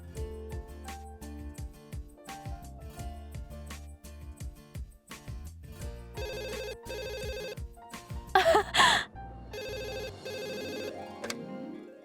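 A telephone rings in a dramatic indoor scene, its repeated bell tones sounding over swelling background music.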